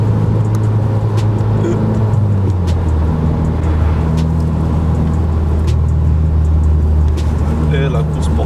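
A car accelerates hard on the road, its engine drone loud and steady throughout with the pitch climbing through gears, while people talk over it inside the cabin.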